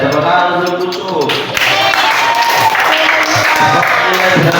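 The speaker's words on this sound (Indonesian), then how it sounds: "tepuk tangan untuk lucu" Classroom applause for a student, a burst of clapping from a group that swells after a brief lull and keeps going steadily, close and loud, with voices mixed in.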